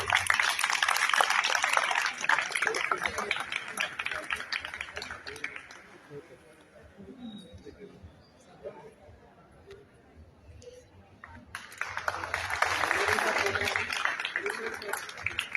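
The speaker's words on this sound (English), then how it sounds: "Big round of applause." Audience applause at a college national seminar, broad clapping from a crowded hall swelling at the start, fading to a quiet murmur of chatter in the middle, then rising again near the end.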